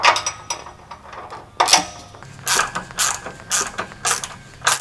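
Ratchet wrench tightening shock absorber mounting hardware on a Jeep JK during a shock upgrade, a series of quick clicking bursts and mechanical clatter repeating at close range with no talk.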